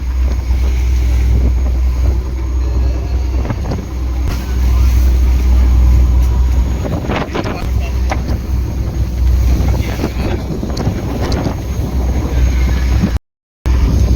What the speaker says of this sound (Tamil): காற்று சரியான காற்றடிக்குதுங்க.